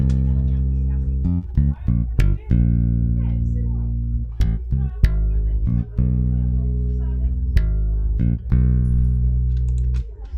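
A deep electronic bass line from the free Ample Bass plugin, compressed in a dancehall reggaeton beat, thumps out sustained low notes in a syncopated pattern with brief gaps between phrases, loud and alone.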